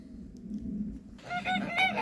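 Several geese honk close by in a garden, a burst of nasal calls breaking out after a second of quiet outdoor hum.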